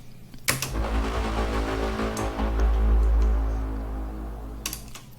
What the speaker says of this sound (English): Before the second drop we have this brass LFO step,